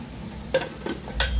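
Three quick metallic clanks of a lid being set onto a pressure cooker holding whole masoor dal, close by, against a quiet kitchen background.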